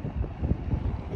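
Wind blows across a microphone in a park, a continuous low rumbling buffet with gusty swells throughout, no voices.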